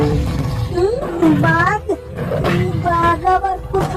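A tiger roars in an animated folk tale about a magical golden cow, a loud voiced roar with rising and falling growling tones, several bursts over a busy soundtrack.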